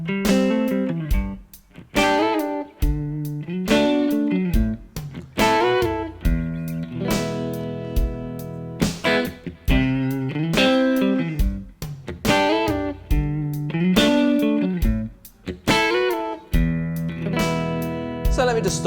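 Electric guitar licks over a song's chords, with clear repeated phrases and bends in a steady groove, played loud and close, with short pauses between phrases and no talking.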